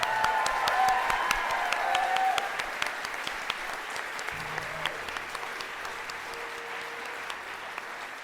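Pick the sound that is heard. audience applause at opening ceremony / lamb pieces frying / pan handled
audience applause at opening ceremony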